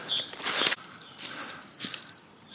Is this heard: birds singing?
yes